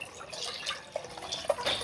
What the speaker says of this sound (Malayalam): ഇതാ കുറച്ച് വെള്ളം തന്നെ നമുക്ക് കൂടുതൽ ഒഴിച്ചു കൊടുക്കാം